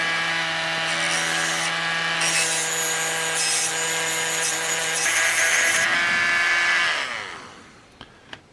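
A rotary tool grinds flat the base of a brass brake cylinder from a model kit, a loud continuous whine with shifting pitch that winds down near the end, followed by two small clicks.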